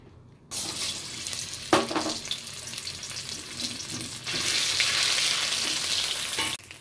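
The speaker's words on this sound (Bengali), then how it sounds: "এটা এবার সর্ষের তেলে ভালো করে ভেজে নেব।" Ground cabbage leaf paste hits hot mustard oil in a pan with a sudden burst of sizzling, followed by steady crackling frying and occasional stirring, growing louder toward the end before cutting off.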